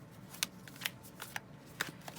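Tarot cards are shuffled in a series of crisp, papery riffle bursts, about five sharp flurries spaced irregularly over a soft background, close and clear with no one speaking.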